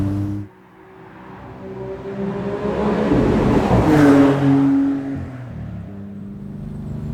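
A Maserati MC20 supercar's engine revs up from a low idle into a rising, roaring acceleration that peaks and then settles back, loud and close, with no talk over it.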